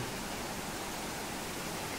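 Kalu waterfall in the Aadrai jungle near Malshej Ghat gives a constant, even rush of falling water, loud and unbroken throughout, with no talking.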